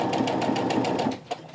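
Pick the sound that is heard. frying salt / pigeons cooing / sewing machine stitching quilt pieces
sewing machine stitching quilt pieces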